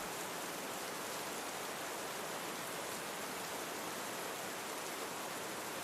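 Steady rain falls outside a cozy cabin at night, a dense, even hiss of drops that holds constant and unbroken throughout, with no voices.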